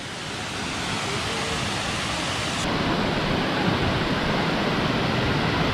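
Kuang Si waterfall in Luang Prabang, Laos, roaring as a steady, loud broadband rush of falling water that swells slightly midway and holds unbroken, with no voices.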